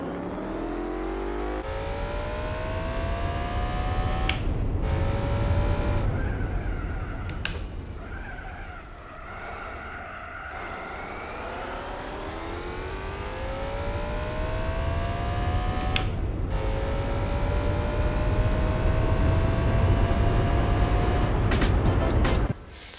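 Race cars in Gran Turismo 4 roar continuously with rising engine revs, gear shifts and tire skids, loud and close throughout with brief dips between accelerations.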